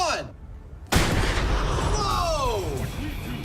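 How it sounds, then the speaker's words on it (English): A controlled detonation of five pounds of explosive sets off one sharp, loud blast after a short quiet pause, then a long rumbling tail and echo, with voices reacting around it. "Control explosion, 5 pounds in 3, 2,"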